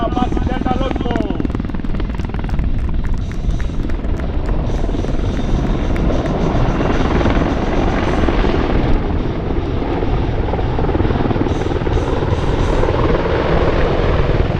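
An Apache AH-64D attack helicopter performs at an air show, its rotor and turbine roar loud and continuous with rhythmic blade chop throughout, while an announcer speaks over a public address system.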